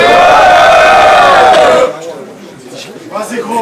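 A noisy crowd at a Swiss Battlerap League rap battle roars with loud overlapping shouts and cheering for about two seconds, then drops to scattered, quieter chatter.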